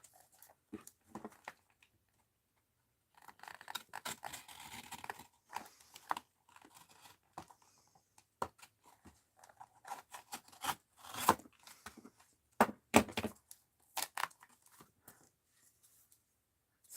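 Scissors snip through paper for a mixed-media art journal, with bursts of crisp cutting and crinkling separated by pauses, close and fairly quiet, with no talking.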